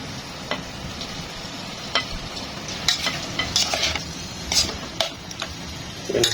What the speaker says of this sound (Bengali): এখন এখানে আমি টমেটো, কাঁচামরিচ, দালচিনি এগুলো সবগুলো এক করে দিয়ে দেবো